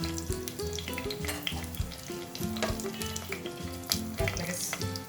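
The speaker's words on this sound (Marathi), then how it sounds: "तेल गरम झालं की त्याच्यामध्ये खडे मसाले घालायचे" Whole spices — cinnamon, cloves, black peppercorns, black cardamom, caraway and bay leaf — sizzle and crackle steadily in hot oil for soya pulao, a continuous close frying hiss with occasional pops and a tonal hum running underneath.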